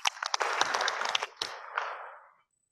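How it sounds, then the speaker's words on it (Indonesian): An audience at a PLN Indonesia Power national work meeting gives a burst of hearty applause, many hands clapping close and bright, then tapering off to silence after about two seconds. "Aplaus lagi untuk PLN Indonesia Power"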